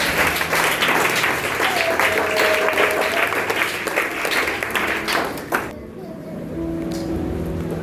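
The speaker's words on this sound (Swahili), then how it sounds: "Lakini tupigie makofi Mungu wa Yerusalemu" A church congregation claps together during a service held after a wedding, dense steady applause lasting several seconds before it cuts off, with a voice and some tonal sounds carrying on beneath and after.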